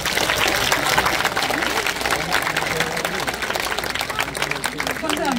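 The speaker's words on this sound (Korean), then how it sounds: "저 어느 것보다도 이 박수를 받는데 오늘 이 박수는 다른 것 같아요" An outdoor audience at the Kim Satgat festival in Yeongwol applauds a singer, dense crowd clapping that runs steadily through the whole stretch, with a voice speaking over it.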